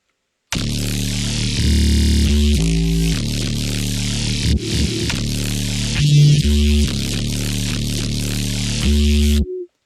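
A buzzy, gritty FM wavetable synthesizer bass line plays a sequence of sustained notes, changing pitch every second or so, loud and alone.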